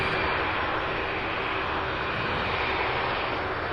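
MD-11 jet engines at Louisville airport give off a steady, loud roar with a faint whine running through it, alone and unbroken for the whole stretch.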